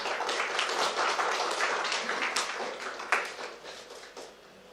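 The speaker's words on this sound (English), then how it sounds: "a big round of applause" An audience at a neuroscience and psychology conference in New Delhi gives a dense, steady round of applause for a speaker, which thins out and fades near the end.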